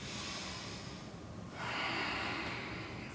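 Deep, forceful breaths during an intense power yoga session, heard close and quiet, a long exhale-like rush followed by a louder, brighter breath with no talking.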